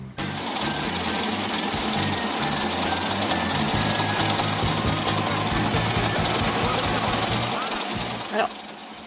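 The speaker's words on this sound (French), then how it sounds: "ce sont des petites carottes de terre que la machine à aérer le sol prélève à raison d'une centaine de carottes au mètre carré" A soil aerator machine pulls small cores of earth from garden ground, making a steady, close mechanical chugging and rapid thumping that runs almost without a break, with a voice speaking over it.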